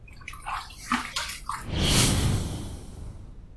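Water runs and splashes at a sink for a rinse after a wet shave, starting with a few close splashes and drips, then a steadier gush near the middle that fades by the end.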